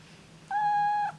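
A female cat lets out a single drawn-out, high, steady meow, loud and close, lasting about half a second over a faint low hum.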